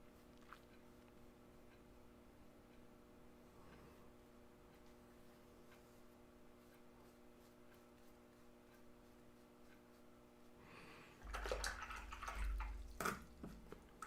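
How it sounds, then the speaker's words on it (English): A watercolour paintbrush is swished and rinsed in a water jar, a short burst of splashing near the end after a long quiet stretch with faint ticking in the room. "Rinse out my brush well."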